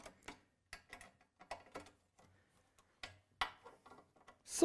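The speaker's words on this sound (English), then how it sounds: "Then the screws are tightened." Screws tightened on a profile section of a Festool MW 1000 mobile workshop make scattered short ratcheting clicks and taps in small bursts with brief pauses, close and fairly quiet, with no talking.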